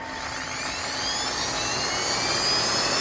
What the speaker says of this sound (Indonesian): ini adalah bor listrik yang akan kita cek